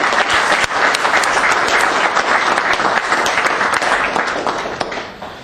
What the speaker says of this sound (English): they deserve a round of applause for all the work they do